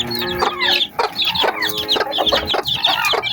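Three-week-old chicks, a Texas breed crossed with Rhode Island, peep and cheep constantly up close, a busy chorus of high chirps with a few louder calls.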